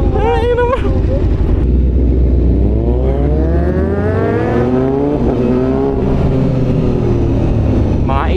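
An inline-four motorcycle with a very short exhaust revs up and down at a bike meet, rising and falling engine tones sweeping through the clip, loud and close, with other engines around.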